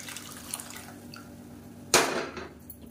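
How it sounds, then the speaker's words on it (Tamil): A short burst of lentil cooking water splashing into a pot of rasam, loud and brief, after a quiet stretch of faint kitchen clatter. "பருப்பு வேக வச்சுருந்த தண்ணியை சேர்த்துக்கலாம்."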